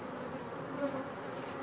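Honeybees buzz steadily while a nuc is installed into a hive, shaken from the box; a dense, continuous hum close by, fairly quiet and even, with no voices.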